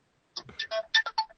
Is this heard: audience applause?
no